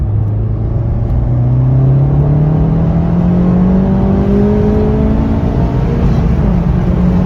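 A Honda Civic Type R with a manual gearbox driven in sport mode gives a steady, loud engine drone whose pitch climbs smoothly as it accelerates, with road rumble underneath throughout.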